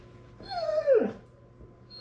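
A small dog gives one thin, rising-then-falling whimper up close, short and plaintive, in an otherwise quiet room.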